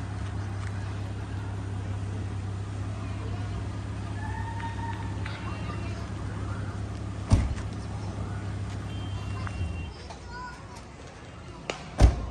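Engine of a 2008 Mitsubishi Pajero V93 with a 3000cc engine idling as a steady low hum under nearby talk, cutting out a couple of seconds before the end.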